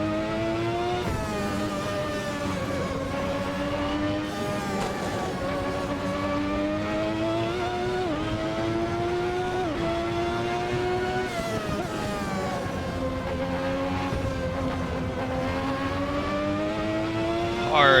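A Ferrari 643 Formula 1 car engine in a racing video game screams continuously at high revs, its pitch rising and dipping with gear changes and braking over a steady, loud drone.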